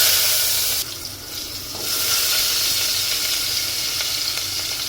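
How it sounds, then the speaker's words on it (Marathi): Chopped onion drops into hot oil already holding turmeric, cumin and mustard seeds, setting off a loud, steady close-up sizzle that briefly dips and then swells back to a continuous hiss. "आता आपला कांदा टाकायचा."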